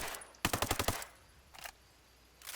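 An assault rifle in the video game Ghost Recon Breakpoint fires a rapid burst of about seven sharp shots, followed by a short second burst and the start of a third, loud against a quiet background.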